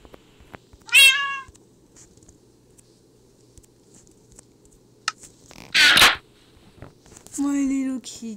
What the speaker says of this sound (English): My little kitty!